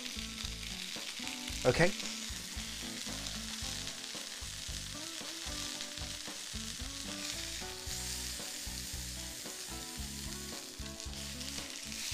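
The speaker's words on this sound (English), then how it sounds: "You can hear that sear as this is cooking." Pork searing in a pan for a soy pork dish, a continuous loud sizzle with a brief stirring clatter near the start, heard under background music, and a voice speaks once.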